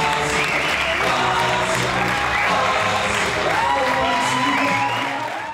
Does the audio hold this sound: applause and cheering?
yes